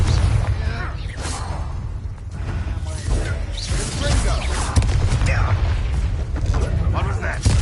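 Confringo fire-blast spells exploding in combat in Hogwarts Legacy: a dense, loud barrage of booms, whooshes and crashing impacts, continuous and layered over game clatter and voices.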